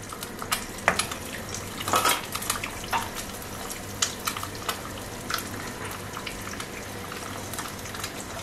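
Egg noodles tossed in a pan with salt, black pepper and green onion, a soft scraping stir with scattered utensil clicks against the pan over a quiet, steady background, no talking.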